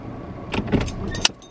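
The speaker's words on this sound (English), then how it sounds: "I just parked the car" A car being parked outside a school gives a few brief close clicks and clunks, with a short jangle and a sharp snap near the end.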